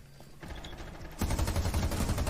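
Rapid bursts of gunfire in the video game Rainbow Six Siege erupt and grow louder partway through, a dense crackling volley with no voices over it.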